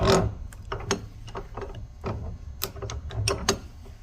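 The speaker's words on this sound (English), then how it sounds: "So I just use the vise to form it." A bench vise reshaping out-of-round parts from a Toyota cylinder head, with close, sharp metallic clicks and creaks in an irregular rhythm as the handle is worked.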